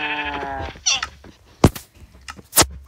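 Goats or sheep at a petting zoo let out several short, bleating calls, a drawn-out cry first and then sharper bursts spaced irregularly, fairly close and moderately loud with no talk.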